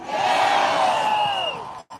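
A large crowd at a live rally roars and whoops in one loud, sustained cheer that swells and then cuts off abruptly.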